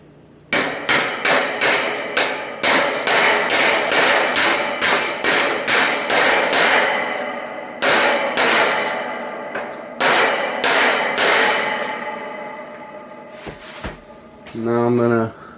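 Repeated metal-on-metal pounding with a piece of metal used in place of a hammer during a J-B Weld SteelStik shelf repair, sharp close strikes in quick bursts with short pauses, and a voice speaking briefly near the end.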